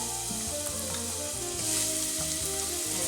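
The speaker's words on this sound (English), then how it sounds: "And let's fry it for a few seconds till it gets soft." Chopped onion sizzles in warm extra virgin olive oil in a pan, a close, steady frying hiss with soft stirring scrapes, no voices.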